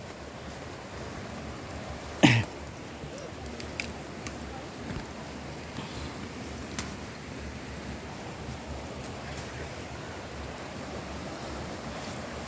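A strong river in Lelepa, Vanuatu, rushes in a steady, broadband roar of fast water, with a sharp knock or bump near the start and faint scattered clicks above the continuous flow.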